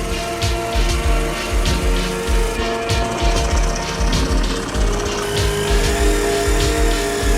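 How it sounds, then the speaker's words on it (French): A jigsaw cuts steadily through a wood board, its motor buzzing loud and close with a rhythmic, repeating chatter across the whole stretch. "on va couper tout ça avec la scie sauteuse"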